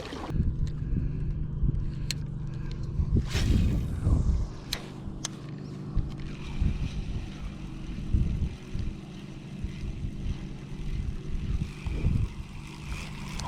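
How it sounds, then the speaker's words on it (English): Paddling a small fishing boat on water in stormy weather, with soft splashes and strokes under steady wind rumble on the microphone, plus a few faint knocks. "We're paddling towards them now"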